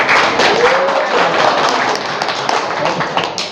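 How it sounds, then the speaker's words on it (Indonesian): A live audience applauds at a religious talk, with dense, loud clapping that stays steady and close for a few seconds before starting to thin out. "Tepuk tangan."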